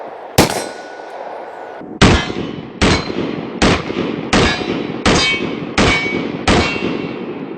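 Loud handgun shots from a Canik TTI Combat pistol at an outdoor range, one opening shot then a quick, steady string of seven more, each ringing briefly, with no voices.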